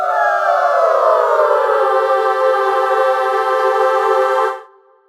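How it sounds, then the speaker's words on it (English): A LABS Gaelic Voices choir VST Fast Descent preset, singers starting at scattered pitches and gliding into a sustained unison vowel, loud and dense, held for about four seconds before cutting off cleanly. "The singers begin at a random pitch and then find unison, all singing the R vowel."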